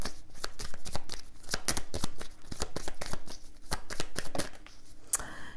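Tarot cards being shuffled up close in a steady run of crisp riffling flicks and soft slaps, with no voices over it.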